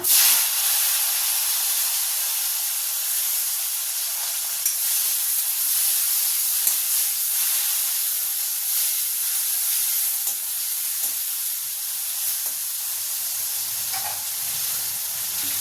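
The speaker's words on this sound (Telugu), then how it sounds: "ఇప్పుడు అదే నూనెలో బీరకాయ తొక్కని ఒక టమాటా వేద్దాం" Ridge gourd peel and a tomato fry in hot oil, giving a steady bright hiss and sizzle with faint crackles and occasional stirring clicks, close and continuous without talk.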